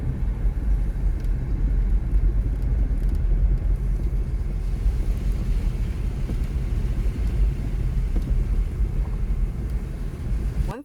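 A car drives along a road, giving a continuous low rumble of engine and tyre noise at an even level throughout, with no voices.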